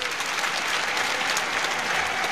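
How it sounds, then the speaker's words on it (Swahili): A crowd at a public event in Tanzania applauds the Prime Minister, a dense, steady roar of clapping that fills the whole moment with no pauses. "naomba tumpigie makofi sana Mheshimiwa Waziri Mkuu"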